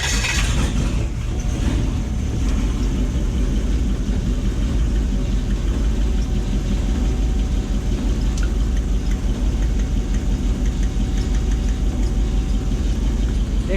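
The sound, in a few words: jet boat engine running on missing cylinder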